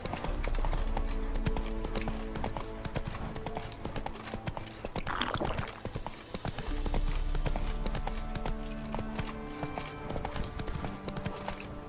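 Roach the horse galloping in The Witcher 3: Wild Hunt, rapid rhythmic hoofbeats clip-clopping loudly and continuously, easing briefly in the middle before picking up again, over game ambience.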